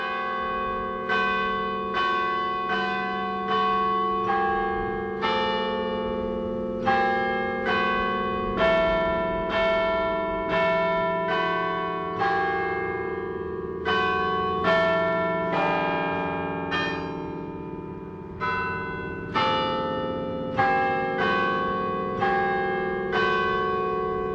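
A church bell rings in a steady series of about twenty loud strikes, each clear metallic tone sounding alone and fading before the next, with a few brief pauses in the rhythm.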